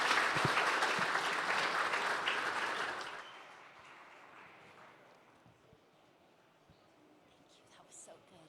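An audience at a fireside-chat conference session bursts into loud, dense applause that holds for about three seconds, then fades to a quiet room with faint scattered murmurs.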